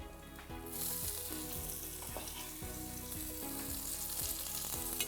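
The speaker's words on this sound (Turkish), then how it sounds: "Sarımsaklarımızı koyduk. Şimdi soğanımızı da ekleyelim." Chopped garlic and onion sizzle steadily in hot oil as they are sautéed for a gurnard fish soup, a continuous close frying hiss with occasional stirring, no talking.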